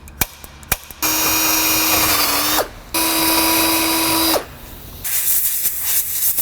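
A power drill drives self-tapping screws into a car's sheet metal in two steady, whining runs about a second and a half each, separated by a short pause, with a few clicks and handling noises around them.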